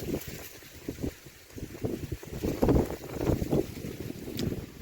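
Wind gusts across a tall-grown sugarcane field on a village farm, rustling leaves and buffeting the microphone in uneven, fluctuating bursts, with no talking.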